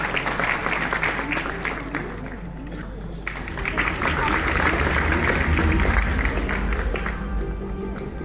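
A large audience claps continuously at a Malayalam film audio launch event for Bandra, a dense, loud wash of hands that swells after a brief lull and carries on with voices mixed in.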